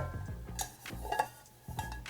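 A metal lid comes off a Polish military ration pot with a few scraping clanks and one bright clink, close and fairly quiet, with nobody speaking.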